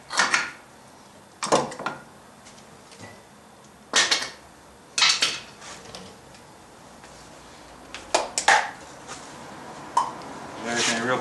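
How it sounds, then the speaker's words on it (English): Old brake pads being pried out of a GM caliper, giving a handful of sharp metallic clicks and clacks spaced irregularly across the span, close up, with quiet gaps between them. "going to pop the old pads out."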